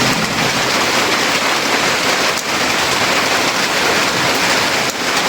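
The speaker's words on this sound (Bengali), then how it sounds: "হঠাৎ করে অন্ধকার হয়ে এমন বৃষ্টি আর বাতাস শুরু হইলো" Heavy rain pours down with gusting wind after a sudden darkening of the sky, a dense steady roar close by with no voices.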